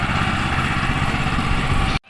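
A small 16 horsepower four-wheel tractor engine idles on a village farm, a steady close mechanical drone with a low throb that cuts off abruptly at the end.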